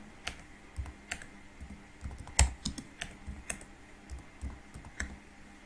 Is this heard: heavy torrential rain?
no